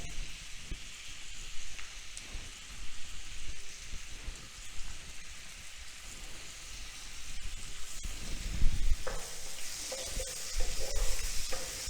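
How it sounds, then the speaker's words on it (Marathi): Seasoned prawns frying in butter and garlic in a pan give a steady, close crackling sizzle throughout, with occasional louder spatters and stirring bumps. "आता यामध्ये आपण सीझन केलेले सगळे प्रॉन्स घालायचे आहेत"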